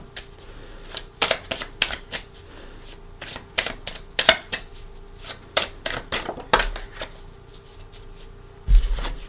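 A deck of tarot cards being shuffled by hand, a series of crisp riffling bursts and sharp snaps in irregular clusters, close up, ending with a heavier thump as the deck is squared.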